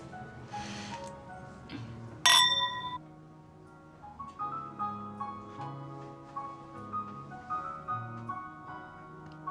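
Glasses meet in a single bright clink during a toast, short and ringing, then fade under soft background music.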